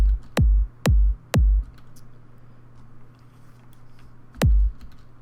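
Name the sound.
two-layer kick drum in FL Studio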